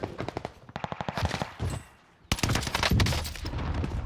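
Rapid automatic weapon fire in the shooter game Warzone, loud and close, in two bursts with a brief quiet gap between them.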